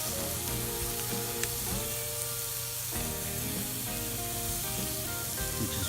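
Shish kabobs of meat cook slowly over a small bed of coals on a Lodge Sportsman's Grill, giving a steady close sizzle with faint crackles and a few clinks throughout, no talking.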